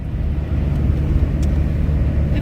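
A van rolls along a road in Bulgaria in December, a steady close low engine drone and tyre rumble filling the short stretch at an even level, with no voices.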